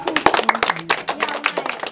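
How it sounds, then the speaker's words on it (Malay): Children clap their hands at a kids' money-scooping game, a quick, uneven patter of claps close by, with a few voices mixed in. "Tepuk tangan."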